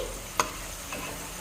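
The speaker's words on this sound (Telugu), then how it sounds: "ఇలా కొద్ది కొద్దిగా అన్నీ ఫ్రై చేసుకోవాలన్నమాట" Amla gooseberries fry in oil with a faint steady sizzle and a single sharp tap or pop near the start, brief and quiet.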